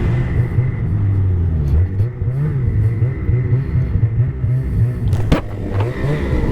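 A snowmobile engine runs at a steady, gentle throttle along a freshly groomed trail in New Brunswick, a low continuous rumble close by with slight pitch wobbles and a brief sharp clack near the end.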